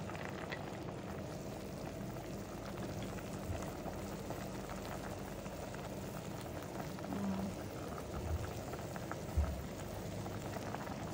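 Pot of chicken sinigang soup simmering on the stove, giving a faint, steady bubbling hiss throughout, with a small knock near the end.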